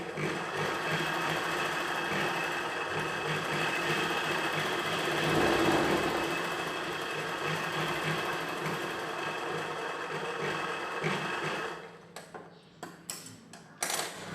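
A sewing machine stitches a churidar pant in a steady, continuous mechanical whir for about twelve seconds, then stops, followed by a few sharp clicks and fabric handling sounds.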